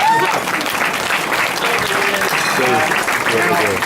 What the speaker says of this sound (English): Yes, we can give her a round of applause